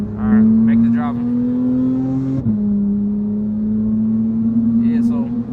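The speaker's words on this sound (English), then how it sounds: "Now I'm here in the Porsche driving" Steady engine drone of a Porsche GT3 cruising from the driver's seat, a strong constant hum with a brief dip in pitch as it shifts, people talking over it.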